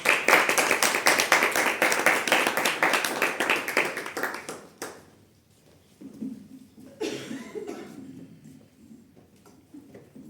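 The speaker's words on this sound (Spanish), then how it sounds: "Sí, adelante, un aplauso" An audience at a poetry reading breaks into steady applause that fills the room for about five seconds, then cuts off, followed by quiet and a voice beginning to speak.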